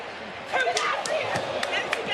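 A wrestler lands from a suplex in a wrestling ring, sharp slams and thuds on the canvas amid crowd noise, with commentators talking throughout.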